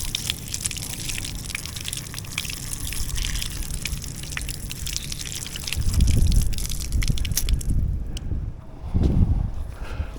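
Work gloves soaking in water, with a continuous close splashing and trickling, plus heavier sloshing surges as they are pushed and squeezed under the water.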